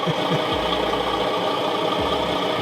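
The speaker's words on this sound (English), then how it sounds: "Nice diesel noise." A diesel engine sound kit on a radio-controlled model truck plays a steady, loud idling rumble on its own, close up, with a slight knocking throb under it.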